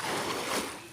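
Waves crash and wash along a beach, a brief, broad rush of water that swells and then eases off, heard at moderate distance.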